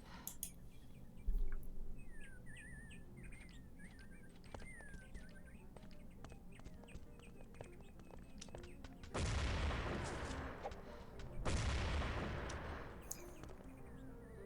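Grenade blasts in a competitive multiplayer shooter match, two loud broadband bursts heard late after stretches of quieter scattered shots and small game effects, with no commentary over them.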